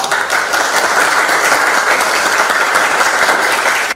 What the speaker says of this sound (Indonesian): berikan tepuk tangan dulu untuk kelompok 1